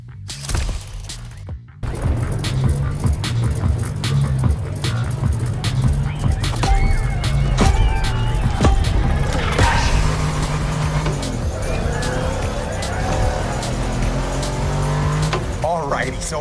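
A car racing in the video game The Crew Motorfest, its engine droning loud and steady with tire squeals, under music and overlapping talk.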